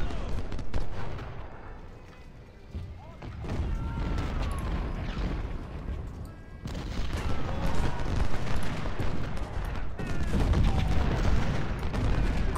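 Cannon and artillery fire booms repeatedly in the Civil War battle game Ultimate General, heavy overlapping blasts and rumbling volleys with crackling musketry, loud and continuous.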